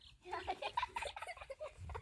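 A chicken clucks in quick, soft chattering notes, somewhat faint and close, with some low background noise.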